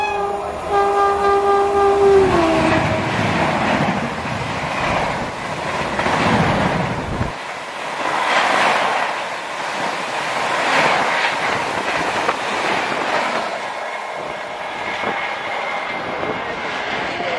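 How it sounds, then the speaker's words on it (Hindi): A Shatabdi express train rushes past at speed close by while another train waits, opening with a horn blast and followed by loud, sustained rolling rumble and clatter from the passing carriages. "इस ट्रेन को रोका गया है शताब्दी के लिए और शताब्दी हमारी सामने से आती हुई कितनी स्पीड से, देखिए।"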